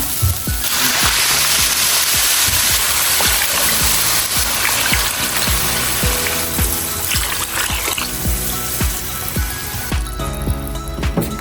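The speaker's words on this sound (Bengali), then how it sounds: "রান্নাটা শেষ। এখন আমরা পানি দিব।" Water pours steadily into a pot of meat bhuna khichuri for several seconds, a continuous splashing stream with a few small knocks.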